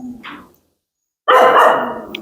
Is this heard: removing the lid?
no